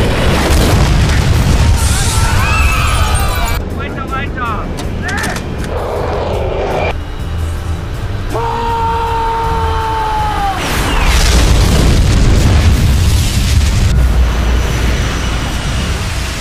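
In a film scene, a missile explodes near an IA-42 aircraft and shatters its cabin windows: heavy booms and rumbling, aircraft whine and tonal sweeps, loud and layered throughout, with a voice talking over the effects.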